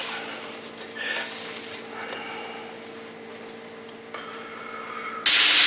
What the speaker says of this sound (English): Now I'm frying the venison meat in the pan in bacon grease